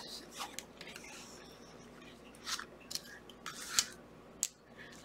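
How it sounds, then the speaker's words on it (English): Dice roll quietly on a soft pad for a Monopoly game at night, several muted clicking and tumbling taps in short bursts over a faint background, close and soft. "I'm rolling the dice on the pad because everybody is asleep."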